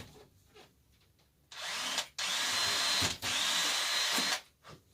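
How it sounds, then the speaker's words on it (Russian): Cordless screwdriver drilling holes into the wood of a rabbit feeder, three close whirring bursts, each about a second long, separated by short pauses, with no talking. "Берем шуруповерт и проделаем"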